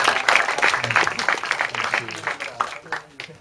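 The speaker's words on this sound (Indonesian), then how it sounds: "kasih dong tepuk tangan buat Pak Iman Hirawadi." An audience at a mobile broadband industry conference session claps for a speaker, with irregular bursts of clapping that fade toward the end and talk running underneath.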